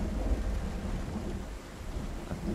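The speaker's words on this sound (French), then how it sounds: "l'orage" Steady thunderstorm ambience in the zombie survival game Project Zomboid, with heavy rain and low thunder rumbling continuously and loud, with no voices.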